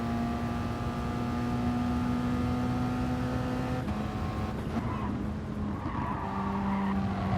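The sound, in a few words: race car lap with braking in racing video game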